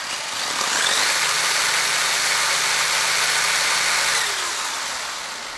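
A Hobbywing XR10-controlled RC car electric motor spins up to a high, steady whine that holds for several seconds at moderate loudness, then winds down and fades.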